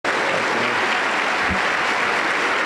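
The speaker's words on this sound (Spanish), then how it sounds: "recibimos al hombre de Dios con un fuerte aplauso para el Señor y Salvador Jesucristo" A church congregation at a Pentecostal service breaks into loud, dense applause that starts abruptly and continues steadily, filling the room.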